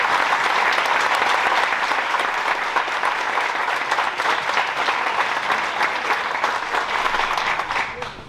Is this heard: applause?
yes